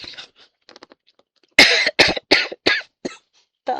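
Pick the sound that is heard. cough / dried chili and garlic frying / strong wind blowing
cough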